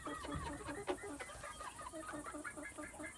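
Chickens roost in an open run at night, including a small black rooster, giving soft rhythmic clucks and murmurs nearby, with quiet human talk mixed in.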